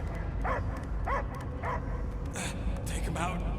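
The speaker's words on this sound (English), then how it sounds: "I hear only barking." A possessed dog in the video game Guardians of the Galaxy, on the planet Maklu IV, gives several muffled barks and yips amid a dense, rumbling game soundscape, with voices around it.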